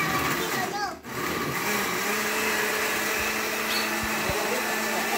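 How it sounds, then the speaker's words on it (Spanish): A kitchen blender whirs steadily at high speed while blending food for a home-cooked dish, loud and close, with children's voices and adult talk over the motor noise. "ya ahorita Jonathan va a ayudarle ahí a licuar ya la"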